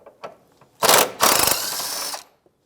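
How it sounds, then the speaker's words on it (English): A ratchet with an extension and 10mm socket undoes a bolt on a 2011-2016 Hyundai Elantra during a transmission oil pan job, two loud close bursts of rapid clicking, the second one longer, with a faint knock before. "I'm going to get an extension and 10mm socket."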